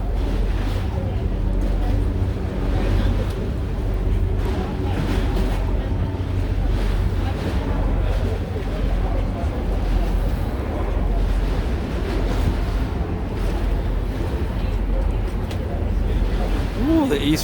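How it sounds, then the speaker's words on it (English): An NYC Ferry boat arrives at the Red Hook terminal on the East River, its engine a low steady rumble under wind noise and lapping water; a person talks briefly over it. "Okay, here's our boat coming in."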